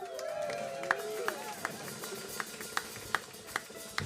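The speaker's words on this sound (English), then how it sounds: "you're already cheering and you don't even know what the shout-out is for" Audience at a live band show at a brewery's birthday event, cheering and clapping with scattered sharp claps and whoops, moderately distant and fading into a steady crowd murmur.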